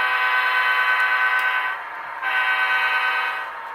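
A sustained, loud horn blast from an HO-scale Athearn NC DOT model locomotive, holding for over a second, a brief dip, then sounding again just as long.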